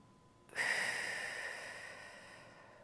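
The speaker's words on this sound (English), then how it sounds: "Inhale, expanding through our rib cage into our hands." A single slow, deep inhale sounds close and quiet during a breathing exercise, starting abruptly and then gently tapering off, with no talking.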